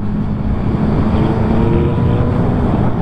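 A 2025 Yamaha XSR900GP motorcycle engine drones loudly and steadily up close, mixed with rushing wind, holding an even pitch throughout, kept below 6000 rpm.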